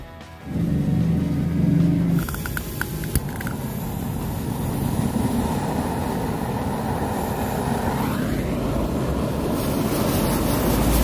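Firecrackers and fireworks are lit and burn, giving a sharp ignition burst followed by a continuous loud hissing, crackling roar that lasts to the end with a few small pops in between.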